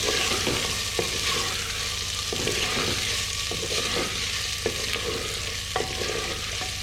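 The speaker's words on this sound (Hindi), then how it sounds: "अब इनको फ्राई करेंगे जैसे आप चिकन फ्राई करते हैं।" Chicken paya (chicken feet) frying in a hot pan, a steady close sizzle with occasional stirring scrapes and small pops throughout, no talking.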